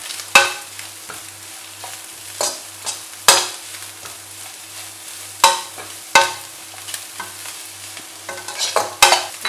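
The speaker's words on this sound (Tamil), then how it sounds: "நல்லா ஃப்ரை ஆகணும்." Chicken rice with capsicum and carrot frying in a pan, a sharp irregular scrape and clatter of stirring over a soft continuous sizzle with a low steady hum beneath, no talk.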